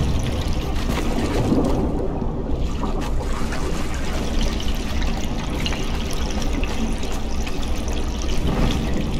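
Steady flowing water in a dungeon in the game Conan Exiles, a continuous pouring, trickling rush that holds even and unbroken throughout with no voices over it.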